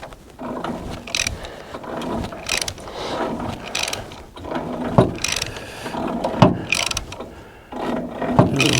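Ratchet wrench clicking in bursts while turning over the engine of an M151A1 military jeep by its flywheel pulley, with metallic mechanical clatter and uneven repeated strokes, close and fairly loud.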